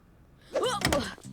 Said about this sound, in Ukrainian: Дурні дверцята вічно відчиняються